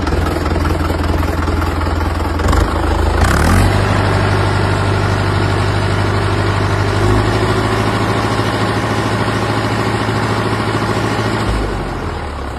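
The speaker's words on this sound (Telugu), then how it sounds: "బండి ఒకసారి స్టార్ట్ చేసి చూసుకుందాం." A 2019 Mahindra Yuvo 575 tractor engine cranks over and settles into a loud, steady diesel idle close by, running evenly with no voices.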